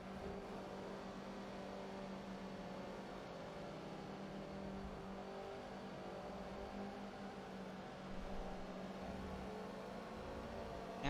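Race cars circling the Maple Valley full circuit in a racing video game, a steady blended engine drone with faint shifts in pitch, distant and even throughout with no talk.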